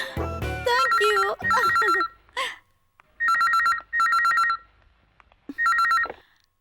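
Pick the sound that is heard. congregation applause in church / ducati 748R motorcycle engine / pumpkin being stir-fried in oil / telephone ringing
telephone ringing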